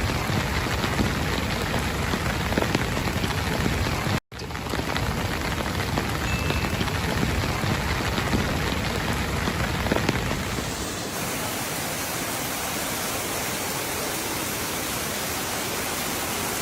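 Torrential rain pours down during floods in Seville, a loud, dense and unbroken roar of water drumming on surfaces that continues throughout with only a brief dropout.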